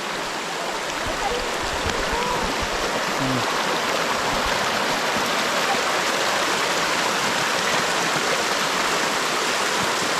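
A river flowing steadily, a constant broad rushing of water throughout, fairly close and loud, with no talk over it.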